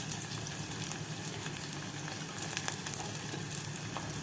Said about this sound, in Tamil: இந்த வெங்காயம் நல்லா வதங்கணும். அதோட வெள்ளைப்பூடையும் போட்டுறணும்.